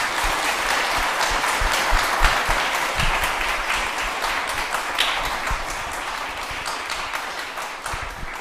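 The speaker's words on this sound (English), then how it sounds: "Let's give our panelists a round of applause." Audience at a blockchain summit applauds a panel, dense steady clapping from many hands filling the room for several seconds at an even level.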